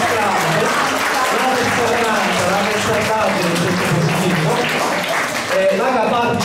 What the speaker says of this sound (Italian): io voglio fare un applauso a Silvana Zardia